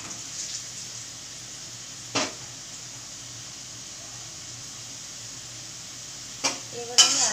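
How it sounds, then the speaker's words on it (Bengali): Potatoes frying over a high flame for ghugni, a faint steady sizzle with a few soft clinks and scrapes of a spoon stirring in the pan. "ঘুগনি করার জন্য আলু খুব একটা বেশি ভাজতে লাগে না, তাই আমি হালকা নাড়াচাড়া করেই তুলে নেব।"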